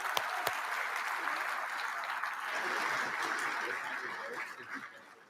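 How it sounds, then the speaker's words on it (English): A crowd at a Marine Corps awards dinner applauds in honor of a departing Marine, sustained clapping at a moderate distance that swells slightly and then begins to fade. "a big round of applause for him"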